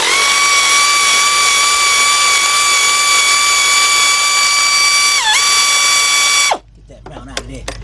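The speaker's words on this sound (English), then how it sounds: "got my 17mm deep 3/8 drive, my 3/8 drive air ratchet" A 3/8-drive air ratchet with a 17mm deep socket spins in one long, loud, high-pitched whir, loosening a bolt on a 2002-2005 Hyundai XG350 during timing belt work. It runs close and steady with a brief pitch dip, then cuts off into faint clinks.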